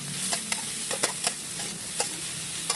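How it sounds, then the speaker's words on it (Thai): Thinly sliced watermelon rind stir-fried in a pan gives a constant soft sizzle with repeated sharp scrapes of a spatula every half second or so, close and fairly quiet, no voices. "เราจะต้องผัดให้สุกเลย"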